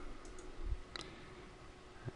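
A single space bar press on a computer keyboard stops an Audacity recording, heard as a sharp click near the middle of a short, quiet passage with faint background noise.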